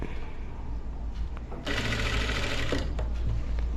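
A sewing machine hems a strip onto a blouse with a steady, continuous close whir that swells louder midway through, with a voice speaking faintly beneath it.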